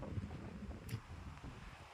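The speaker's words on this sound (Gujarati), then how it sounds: "એમાં પણ કેટલો ઠંડો કુલકુલ પવન" Cool wind blowing outdoors near a village, low buffeting gusts rumbling against the microphone with faint rustling, fairly quiet and uneven.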